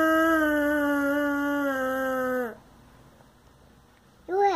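A person's voice imitates an elephant's trumpet with a long, sustained, high wail that bends downward at the end, followed by a pause and the start of a second call.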